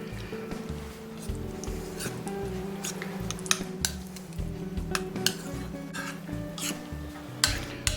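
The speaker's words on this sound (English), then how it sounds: "Next we're going to mix the egg into the ricotta cheese" A utensil stirs egg into ricotta cheese in a bowl for lasagna, soft scraping and tapping strokes in an irregular rhythm, close and quiet with no talk.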